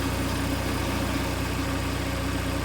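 A tractor engine idles steadily with the PTO engaged, a dense continuous rumble with a constant low throb and no pauses throughout.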